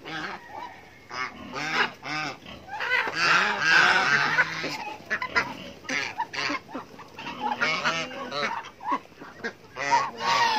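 Geese on a small farm honk loudly and repeatedly, with a gander among them, in overlapping bursts, mixed with clucking fowl nearby and some voices in the background.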